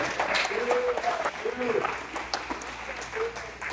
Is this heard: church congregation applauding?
yes